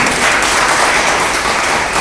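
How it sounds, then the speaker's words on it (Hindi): Loud, sustained applause from a large audience at a speech comes as a dense, unbroken roar of clapping at a constant level, close and without talk over it. "अगर हो तो तालियां बजनी चाहिए"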